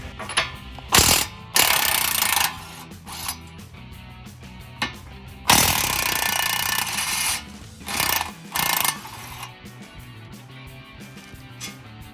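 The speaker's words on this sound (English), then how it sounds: "you want to get your impact and loosen this bolt and this bolt right here" Loud, close bursts from an impact wrench loosening the brake caliper bracket bolts on a 2012-2014 Dodge Charger, with several hammering rattles of varying length, one long sustained run in the middle and shorter clanks and tool handling between them.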